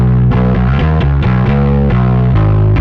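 Bass guitar played through a Rowin noise gate pedal, loud distorted bass notes struck in a steady rhythm, each note cutting off cleanly before the next.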